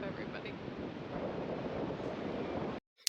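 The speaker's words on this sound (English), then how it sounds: "it was so windy that you could not hear a thing I was saying" Strong wind buffets the microphone on the Washington or Oregon coast with a low, roaring rumble, steady and loud, before abruptly dropping out near the end.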